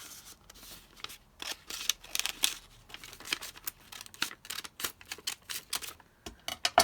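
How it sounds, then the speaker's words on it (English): Scissors snip vellum paper in a string of crisp, quick cuts and rustles, sounding close and uneven, with short pauses between bursts. "and then just snip down here on the edge"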